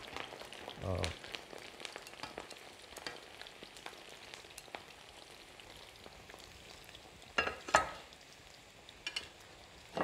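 Potato chips bubble and crackle in hot oil, a dense, faint patter of fine sizzling with a few louder stirring scrapes and clatters near the end; no one speaks.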